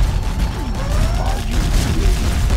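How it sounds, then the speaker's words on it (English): Dense, continuous mechanical rumble and rattling clatter of a rapid-firing video game gatling cannon with spinning barrels, loud and steady throughout with a faint whirring whine mixed in. "It is Gatling cannon. Gun barrels spinning."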